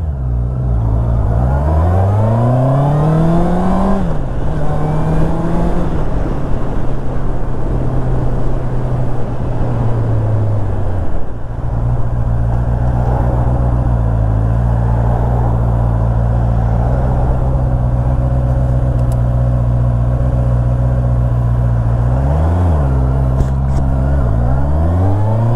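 A motor vehicle drives through Berlin toward the autobahn, its engine loud and close, rising and falling in pitch as it accelerates and shifts, with a steady drone between changes and no talking.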